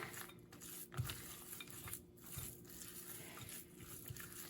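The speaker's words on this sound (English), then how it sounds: "I'm just going to stir these in." Roughly chopped macadamia nuts stirred into white chocolate cookie dough in a skillet, giving faint, soft scraping and a few quiet knocks of a utensil against the pan, close by.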